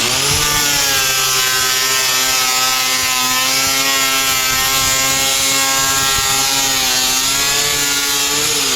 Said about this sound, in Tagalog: Ang hirap gamitin ng grinder na yan.